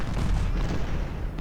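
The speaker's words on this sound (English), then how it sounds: "And they are under artillery fire." Artillery fire in the Civil War strategy game Ultimate General: Civil War, a dense continuous roar of overlapping booms at steady loudness across the whole brief stretch.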